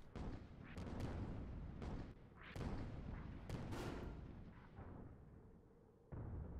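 Heavy flak cannon fire from an airship galleon in a video game: a loud, dense barrage of booming bursts and blasts overlapping one another for several seconds, with no voices.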